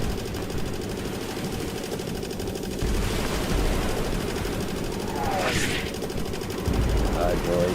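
Sustained gunfire in the WWII shooter Easy Red 2 on Xbox, dense rattling bursts continuing throughout with shots near and far, loud and relentless, with a brief voice shout partway through.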